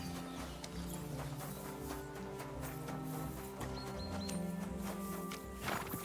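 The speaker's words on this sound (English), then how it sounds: "Man, a lot of nice horses out here." Horses in Kingdom Come: Deliverance II clip-clop steadily at close range, hooves beating in a continuous rhythm over sustained game music, with faint snorts.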